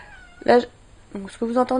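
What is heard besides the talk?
cat meowing, the speaker's cat Lilou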